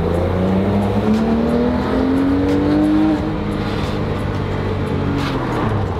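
A Porsche 997 GT3 engine revs up hard toward the top of its rev range, a loud, rising harmonic wail heard from close by that climbs steadily for about three seconds and then drops back to a steady, throbbing idle.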